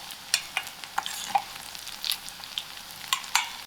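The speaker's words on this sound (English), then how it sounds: "allow this to fry for a few seconds" A cinnamon stick and cumin seeds fry in hot oil with browned onions for a masala lamb biryani, a steady close sizzle broken by sharp crackles and pops.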